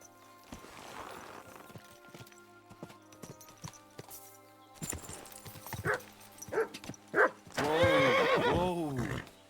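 A horse in the video game Kingdom Come Deliverance 2 clip-clops past with hoof steps, then gives several short snorts and a loud, close neigh at the end, over a quiet game ambience.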